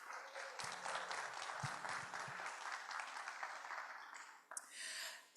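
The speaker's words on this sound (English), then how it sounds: "Let's give him a round of applause." Audience at an evening lecture on salamanders and amphibians gives a round of applause, a steady wash of clapping lasting several seconds before tapering, with a brief rustle and a voice near the end.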